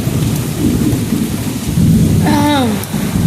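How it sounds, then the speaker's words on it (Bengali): Heavy thunderstorm with steady pouring rain and deep rumbling thunder, a harmonic bird-like call cutting in briefly near the end, continuous and fairly loud throughout. "আজকে প্রচণ্ড ঝড় বৃষ্টি হচ্ছে এত ঝড় বৃষ্টি হচ্ছে"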